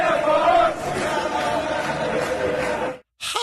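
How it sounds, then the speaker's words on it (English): Irish soccer fans chant together in a dense, wavering mass of voices that holds steady, then cuts off abruptly near the end. "Listen, this is the crowd chanting."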